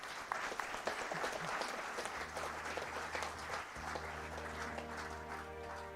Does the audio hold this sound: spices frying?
no